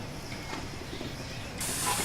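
The Flying Scotsman steam locomotive lets off a brief whiff of steam while easing a train onto a platform: a steady low hiss that swells into a brighter, louder rush near the end.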